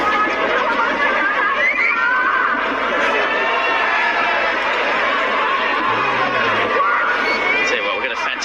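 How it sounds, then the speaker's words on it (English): A packed cricket stadium crowd at the Hong Kong Super Sixes final roars and chatters in a dense, continuous hubbub, loud and unbroken throughout. "we've got a fantastic crowd in here today. The place is humming at the moment"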